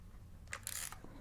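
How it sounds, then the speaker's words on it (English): The shutter of a Pentax 17 film camera is cocked by hand, a quick close-up mechanical ratcheting with a couple of short clicks and a brief whir, quiet and alone. "When you go to cock the shutter"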